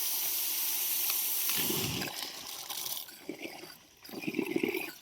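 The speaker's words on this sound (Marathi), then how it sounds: "पाणी आलं चांगलं आता तुटीला" Water gushes steadily from a village tap or pipe valve outdoors, a broad continuous rush with louder surging bursts partway through, no talking.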